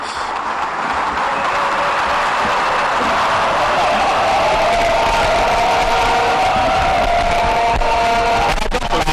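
Cheering and acclamations fill a large assembly hall as a plenary session opens, a steady loud crowd roar with whoops and scattered applause, continuing without a break.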